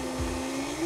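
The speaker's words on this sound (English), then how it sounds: "Turn this back on low, because the next step he did was to put it into the mixer" A stand mixer running on low kneads challah dough, giving off a steady, even motor whine with a faint low thump as the dough turns.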